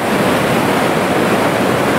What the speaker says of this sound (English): we're at the waterfall that we saw from way over there